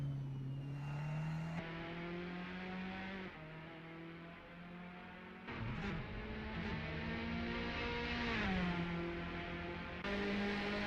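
Formula Alfa race car engine heard from onboard during a qualifying lap, loud and steady, revving up through the gears with quick drops at each shift and no talking.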